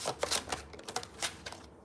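A deck of tarot cards is shuffled by hand, giving a quick series of soft papery riffles and flicks in uneven bursts, close and fairly quiet.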